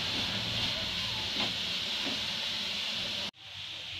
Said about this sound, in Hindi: मैं इस गाजर को इसमें फ्राई करूंगी।